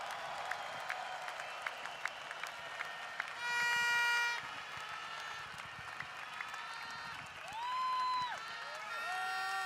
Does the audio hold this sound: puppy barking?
no